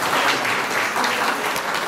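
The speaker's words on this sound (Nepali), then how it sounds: "अब यो बजेटलाई यहाँहरूले ताली बजाएर पास गरिदिनुको लागि म हार्दिक अनुरोध गर्न चाहन्छु" Members of a municipal assembly applaud to pass the budget, a dense, even burst of many hands clapping, loud and continuous without voices.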